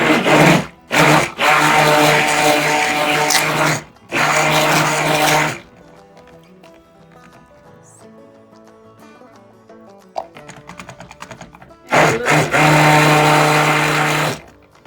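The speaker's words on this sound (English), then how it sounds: "I'm going to stick blend this just a little bit more than I normally stick blend" A stick blender whirs loudly through cold process soap batter in several bursts, two short pulses and then longer runs, with quiet gaps between them as it stops and restarts.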